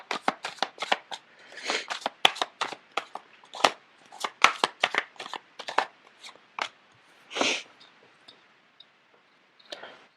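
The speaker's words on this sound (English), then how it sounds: "The cards are not shuffling too well." Tarot cards being shuffled by hand, a rapid series of crisp riffling bursts and soft slaps with short pauses between, close and clear, with no talking.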